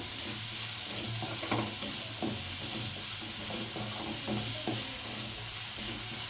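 Onions sprinkled with salt fry in a pan for a mushroom gravy, giving a steady close sizzle and hiss with soft stirring scrapes now and then.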